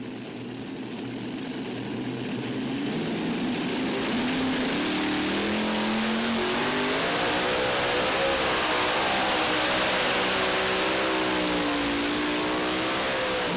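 A modified pulling tractor roaring down the track at a truck and tractor pull in Tomah, Wisconsin, its engine note climbing and wavering loudly and continuously as the run veers toward the sideline.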